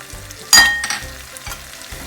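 Cabbage with ground garlic walnuts and red pepper flakes frying in a pan, a sharp sizzling burst near the start settling into softer crackles, with a low hum underneath.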